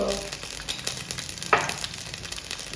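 Curry leaves and mustard seeds crackle and sizzle in hot oil for a Ganesh festival mixed-vegetable dish, a steady soft frying hiss with scattered pops and one sharper burst partway through.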